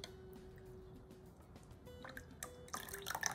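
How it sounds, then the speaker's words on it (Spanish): Peach syrup water pours into a dish in a soft, close trickle, quiet at first and then splashing a little louder toward the end. "vamos a poner la agüita de los duraznos"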